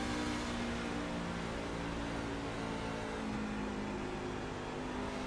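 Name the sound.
race truck engine throttle, Bobby Blair's onboard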